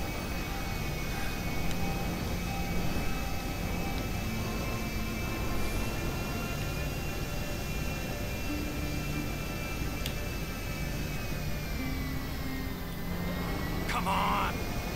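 Airplane engine drone in Grand Theft Auto V as the aircraft nears a runway to land, a steady continuous whine and hum throughout, with faint talk underneath.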